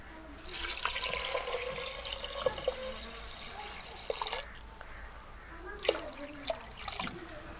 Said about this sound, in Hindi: और इसके अंदर डालेंगे तकरीबन 2 से 3 गिलास पानी।